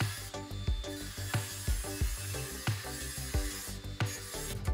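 A cut steel plate from rectangular profile tube is filed flat by hand, giving a run of rhythmic rasping strokes, close and fairly loud, with no talking.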